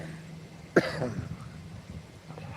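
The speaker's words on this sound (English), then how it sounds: "Always cough a little bit on the vape." A single short cough after vaping, close and sharp, followed by a faint throaty rasp, over quiet background.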